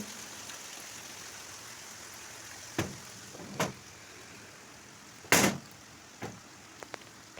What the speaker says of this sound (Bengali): দেখো প্রচণ্ড বৃষ্টি নেমেছে জল জল হয়ে গেছে চারিদিকে